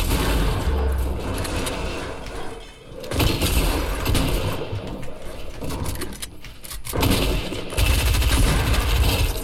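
Gunfire in a sniper-focused shooter video game, dense bursts of shots and impacts crackling in quick succession, broken by a couple of short lulls before the volleys resume.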